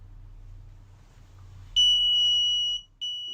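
A bike-sensor pedestrian crosswalk prototype's buzzer triggers with a steady high-pitched electronic tone lasting about a second, a brief gap, then sounding again, over a low background hum.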